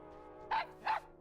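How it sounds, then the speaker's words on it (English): Two quick barks from a pet dog in World of Warcraft, evenly spaced and fairly close, standing out over a faint steady background. "Pet dog."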